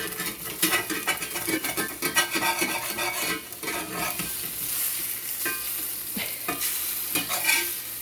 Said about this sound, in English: we're just gonna get this egg flipping